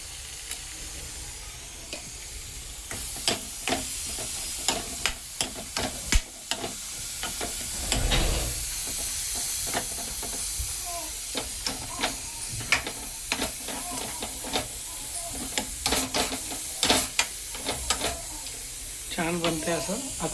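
Grated paneer frying and being stirred in a kadhai, a steady sizzle with repeated scraping spatula strokes and clinks against the pan, close up, with a person talking over it.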